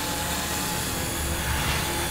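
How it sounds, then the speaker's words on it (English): An Eachine E120 RC helicopter flying nearby, a loud, steady whirring rotor and motor drone held throughout. "having the helicopter fly up and over me, it's pretty darn simple"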